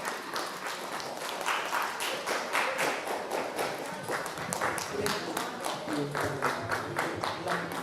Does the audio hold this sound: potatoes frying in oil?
no